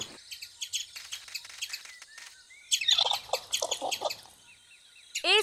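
A cartoon squirrel chatters loudly from a tree near a nest, in a run of rapid high chirps and trills with a sharper burst near the end; no talking.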